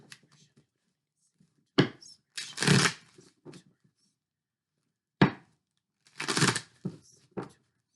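Oracle cards shuffled in several quick bursts of papery riffling and snapping, close and fairly loud, with quiet gaps between them and no talk.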